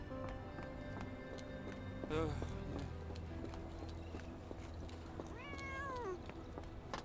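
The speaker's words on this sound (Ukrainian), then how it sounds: "О, кіт десь є." A cat meows once with a rising, wavering cry over a busy soundscape from the game Sherlock Holmes: The Awakened, with a steady low hum and clattering hoofbeats.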